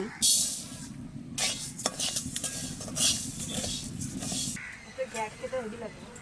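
Moong dal dry-roasting in a pan at home, a steady close rustle of stirring with scraping utensil clicks and faint sizzle, continuing throughout with brief louder scrapes.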